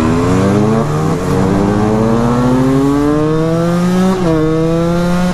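A two-stroke motorcycle engine heard very close and loud, its whining buzz rising through the revs, dipping briefly at gear changes and climbing again in steady upward sweeps.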